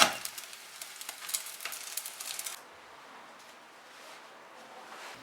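Ham-sausage and egg breakfast pancakes cook in a pan over low heat, giving off a steady close sizzle and crackle that drops abruptly to a faint, soft hiss halfway through.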